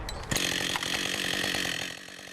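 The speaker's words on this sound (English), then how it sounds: "It was the first time I ever used a chainsaw." A chainsaw runs loud and close throughout a logging skills training session in a university forestry course, with a sharp rev near the start settling into a steady, buzzing drone.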